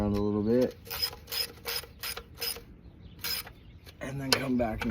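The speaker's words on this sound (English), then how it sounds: "now get your ratchet and just get them all snug tight" A ratchet snugs up the oil pan bolts on a 2003 Mitsubishi Lancer with a string of quick, crisp clicks in short bursts, and a brief whirring tone before and after.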